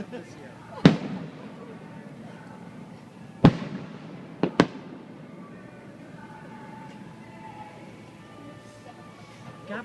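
Fourth of July fireworks burst at a golf course in three or four loud, sharp booms with ringing tails, while a crowd murmurs and people talk nearby.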